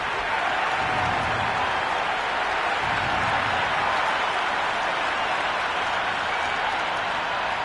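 Stadium crowd at a Big Bash League T20 cricket match in the Cricket 26 video game, cheering and applauding in a dense, steady roar that holds for the whole stretch at an even level.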